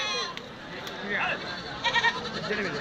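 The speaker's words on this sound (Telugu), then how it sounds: "అన్ని మేకలే కదా" A goat bleats amid a busy outdoor goat and sheep market in Kadiri, with people talking nearby throughout.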